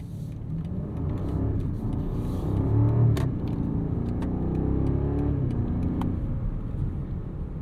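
BMW 760i xDrive from 2023 with an S68 V8, heard from inside on a drive at sunset: a steady, loud low engine rumble that swells and settles under load, with no talking.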